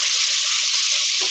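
Water runs into a pot of lobster bisque in a busy home kitchen, a steady bright rush that is loud and close and holds evenly for just over a second, with no talking.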